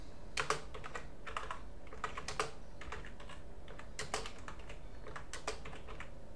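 Keys clatter on a computer keyboard in quick irregular bursts of typing with short pauses, close and fairly quiet.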